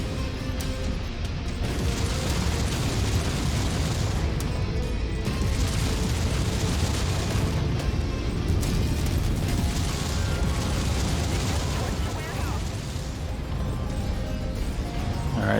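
Explosions and crashing mechanical impacts as a giant mech destroys a target in Mechwarrior 5, a loud, dense, continuous barrage of blasts and grinding machinery with no pauses across the whole stretch.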